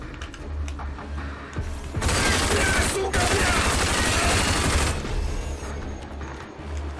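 Rapid automatic gunfire from the shooter game Rage bursts out loud and close for about three seconds, in sustained fusillade-like volleys over quieter background game sounds.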